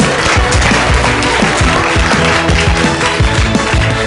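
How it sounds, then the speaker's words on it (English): Group of people clapping together during a morning movement and wellbeing session, a dense, loud, steady patter of many hands with no talking. "Now, let's clap."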